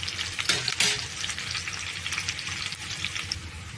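Onions fry in a pan for a raw banana dish, a continuous close sizzle with soft crackles and a couple of louder stirring clatters early on.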